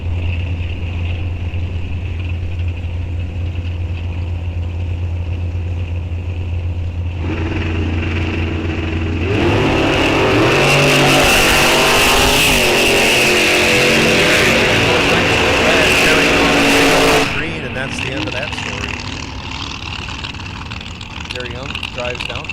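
Drag racers launch at Rock Falls Raceway, a loud broadband engine roar swelling around ten seconds and holding for several seconds before fading, over a steady background rumble.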